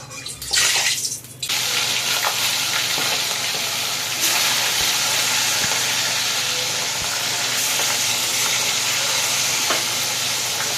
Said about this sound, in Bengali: এখানে মাছ ভাজার জন্য তেল দিচ্ছি। তেলটা বেশি পরিমাণেই দিলাম যাতে মাছটা খুব ভালোভাবে ভাজা হয়।